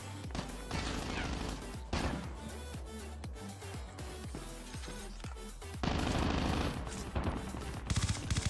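Repeated close gunfire in the Call of Duty Mobile battle royale, with rapid bursts of sharp shots throughout and a louder, heavier stretch of firing near the end.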